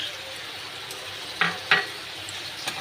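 Spice masala stirred in a pan, a low sizzle running under a few distinct scraping strokes of a spoon against the metal, quiet and close.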